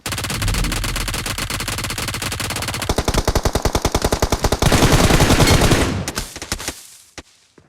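Automatic gunfire in a battle-royale video game, likely from a MEGATRON weapon, is sprayed at enemies in loud rapid bursts of closely spaced shots that roll into a dense continuous stream, then break into a few scattered shots and fade to quiet.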